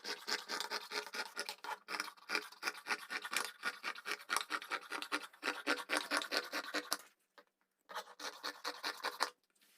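Scissors cut through stretch tailoring fabric with elastane for the front of a straight skirt, giving a steady, close rasping snip rhythm that pauses briefly near the end and then resumes, with no one talking.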